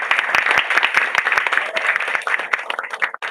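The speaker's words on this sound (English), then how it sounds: "Let's give her a round of applause." A lecture audience applauds steadily, a dense wash of many hands clapping, loud and sustained throughout before fading slightly at the end.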